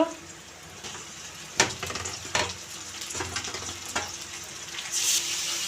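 Mutton pieces dropped into hot oil with whole spices, bay leaf and sliced onion, sizzling steadily with several louder clatters of meat and stirring spoon in a pan, close and moderately loud.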